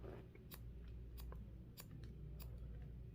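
Scissors snip hair during a pixie cut over the ear, with several crisp, close metallic clicks spaced about half a second to a second apart over a faint low hum.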